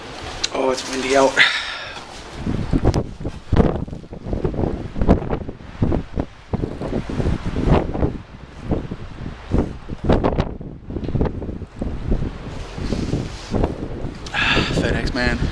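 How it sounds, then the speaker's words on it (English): Gusty wind buffets the microphone in loud rumbling bursts while a person talks over it outdoors. "Oh, it's windy out."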